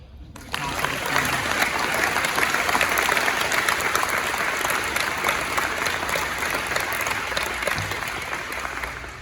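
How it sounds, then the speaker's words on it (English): Sustained audience applause at a tennis complex ribbon-cutting ceremony, starting abruptly and holding steady as a dense wash of many hands, fairly loud and continuous with no voices over it. "how about one more round of applause?"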